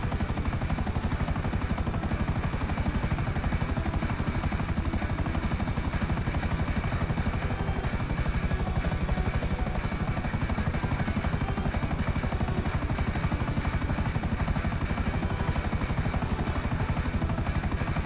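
A helicopter flies in GTA 5 Online, its rotor chopping in a fast, unbroken pulsing drone with a steady high engine whine, loud and constant throughout with no talk.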